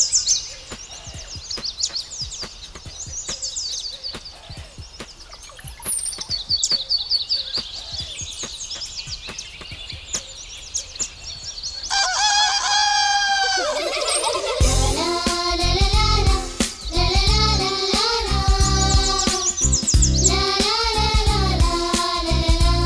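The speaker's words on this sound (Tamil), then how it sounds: "பறவைங்களா? விடிய காலைல எழுந்து இப்படி கத்திக்கிட்டே இருக்கும்." Birds call at daybreak with repeated thin, high chirps and tweets, moderately loud, before a lively musical passage takes over.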